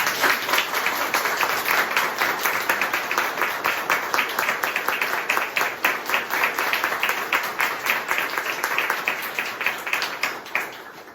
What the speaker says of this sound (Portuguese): Agora é palmas.